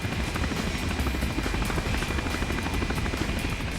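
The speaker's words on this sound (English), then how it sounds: "now I have to shoot down Dr. No's personal aircraft." Dr. No's personal aircraft in the video game GoldenEye: Rogue Agent gives a steady, loud helicopter-like rotor thrum that chops without a break for a few seconds.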